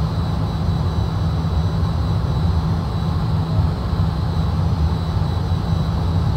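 The jet engines of a Fokker F28 regional airliner in a Just Flight simulator drone steadily on descent with a low, even roar and a faint high whine, unbroken and alone.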